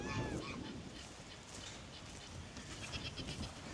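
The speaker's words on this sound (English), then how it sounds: "I still got the gate open where I let the goats out, and Bruno's over there" Goats bleat several times on a farm beside an open gate, close and fairly loud at the start, then softer over continuous outdoor background noise.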